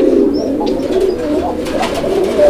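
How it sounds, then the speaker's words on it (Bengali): Yellow domestic Bombay pigeons coo in a steady, overlapping chorus, low throaty calls rolling on continuously and close by with no one speaking. "দেশি বোম্বাই কবুতর ইয়েলো কালার, আপনারা দেখতে পাচ্ছেন ডাকাডাকি করতেছে"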